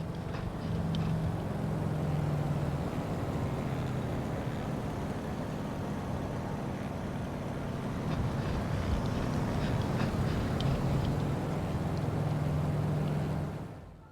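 The Carenado WMF-5 aircraft engine in Microsoft Flight Simulator 2020 drones steadily, loud and continuous with a low humming tone, dropping sharply in RPM before fading out at the end.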